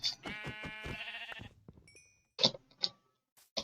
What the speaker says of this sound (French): J'ai entendu un autre mouton.